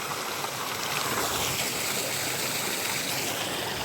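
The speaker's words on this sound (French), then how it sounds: "c'est juste la petite rivière" A small river rushes steadily along the way toward the Tiëtoux gorges and Middleham waterfalls, a continuous close, fairly loud hiss of flowing water with no breaks and no voices.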